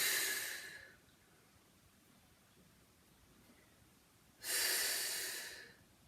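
Two long, breathy exhales through the mouth during a pilates twist, each a soft rush of air about a second long. A quiet pause separates them.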